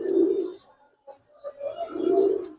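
Pigeons, giribaz and coloured breeds at a loft, cooing close by, two soft throaty coos separated by a short pause, with a faint chirp in between.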